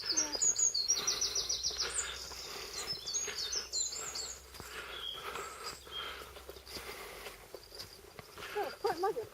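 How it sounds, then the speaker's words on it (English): Birds sing outdoors with high bright trills and chirps clustered at the start, then scattered calls, faint crickets and a few rustles or footsteps beneath. "You listen to the birds sing"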